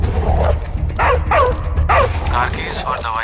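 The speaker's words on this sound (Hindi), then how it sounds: "सामने कुत्ता दिख रहा है?" A dog barks and yips in short, close bursts, with several sharp calls that partly overlap other sounds.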